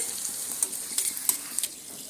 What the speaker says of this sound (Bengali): শুকনো লঙ্কাটা প্রথমে একটু সুন্দর করে ভেজে নিচ্ছি লাল লাল করে